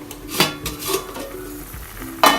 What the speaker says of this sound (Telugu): ఈ వాటర్ మరుగుతున్నాయి కదా